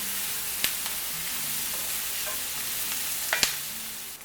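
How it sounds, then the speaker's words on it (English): Onions and mushrooms sauté in a pan with a soft, even sizzle, punctuated by a couple of sharp clicks of a utensil against the pan as they are stirred. "We're going to saute these until the onions become golden brown and the mushrooms begin to soften."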